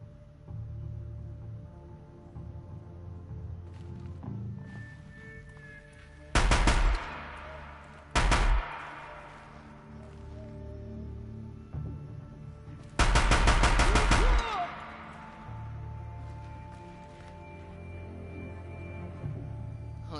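Gunfire in a video game: two short loud shots or bursts near the start, then a longer loud burst of rapid fire, over steady game background noise with no talk.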